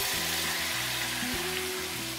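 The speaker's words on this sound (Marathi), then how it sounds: "आता हा कांदा आणि टोमॅटो छान पैकी परतून घ्यायचे, मऊसर करायचे" Chopped onion and tomato sautéing in a pan with crushed garlic, green chilli, salt, turmeric and biryani masala for egg bhurji rice, making a steady, close sizzle and crackle with no talking.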